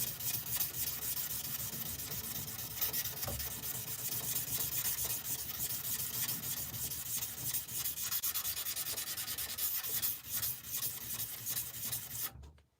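A knife with a hollow grind is hand sanded with a sanding stick, a continuous close, gritty rubbing in quick back-and-forth strokes that runs steadily for seconds before stopping abruptly.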